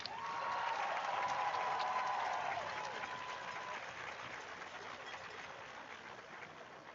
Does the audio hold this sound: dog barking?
no